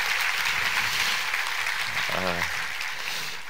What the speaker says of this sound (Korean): 우리 챔버와 우리 2부 성가대에게 한번 격려의 박수를 부탁합니다